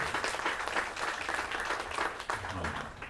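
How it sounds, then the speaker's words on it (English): An indoor audience at a Los Angeles affordable-housing event claps its hands together, a dense, steady wash of applause lasting the whole stretch with a brief lull near the end. "why don't you clap your hands and acknowledge what it means to be human"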